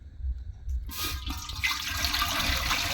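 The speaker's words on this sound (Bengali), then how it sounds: "দিয়ে দিবে পানি।" Water pours into a large cooking pot, a sudden rushing gush starting after a quiet moment and continuing strongly to the end.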